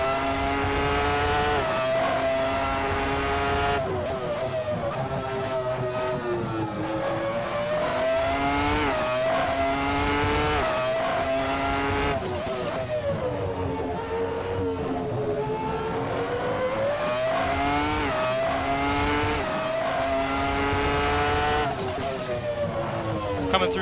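A Ferrari F310 Formula One car in the Assetto Corsa racing game howls continuously at high revs, its loud engine tone rising and falling through gear shifts as it drives through the corners.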